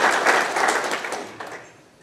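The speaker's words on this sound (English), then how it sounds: "Let's give these folks a round of applause." An audience claps at a talk on genetic evaluation, a brief burst of applause that fades out over about two seconds.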